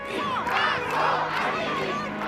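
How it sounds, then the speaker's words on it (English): A large crowd at a Mahsa Amini protest in London raises its voices together in a dense, sustained roar of chanting and shouting that swells and dips without a break. "In London, they chanted Mahsa Amini's name and demanded the government there take action"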